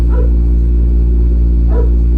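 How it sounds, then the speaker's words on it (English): Dogs barking outside, two short bursts of barking at a moderate distance over a strong steady low hum. "Sorry for the dogs. There's people outside."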